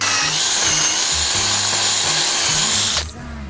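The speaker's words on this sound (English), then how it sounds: "So I'm gonna drill that now." A power drill whines loudly and continuously for about three seconds while drilling a friction folder knife part, then stops, leaving a low hum behind.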